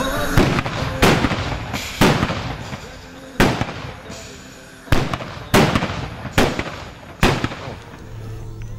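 Carbide cannons made from gas-filled milk cans fire a series of about ten loud, sharp bangs at irregular intervals, each followed by a short echoing decay, outdoors in Metslawier.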